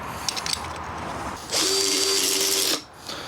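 A power tool drives fasteners while parts are buttoned up on an Evo Sportster chopper motorcycle, a loud steady whir for about a second after faint mechanical clicks, then winding down.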